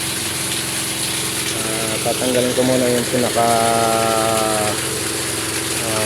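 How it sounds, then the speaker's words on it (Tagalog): An electric pump draws water up from a deep well, a constant rushing drone with tonal humming layers while someone talks over it. "nagkakangga na ako ng tubig ngayon galing sa deep well"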